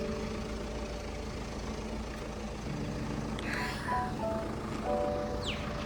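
A car's engine hums steadily as it idles and then pulls away, the drone slightly rising, with faint road and interior noises and occasional soft knocks.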